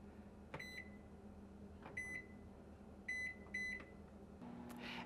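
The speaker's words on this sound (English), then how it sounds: "put these in the microwave" A microwave hums steadily while several short electronic beeps sound as a 15-minute time is set, a single beep, another, then a quick pair, ending with a soft click.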